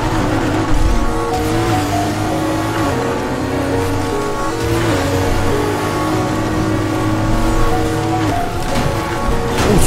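Porsche 911 RSR racing in Need for Speed Heat, its engine screaming loud and close with repeated rising revs and gear shifts, plus brief tire squeal through corners.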